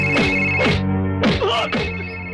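A telephone rings for a call to the commissioner, sounding four clear, warbling electronic ring bursts in quick succession, loud and close.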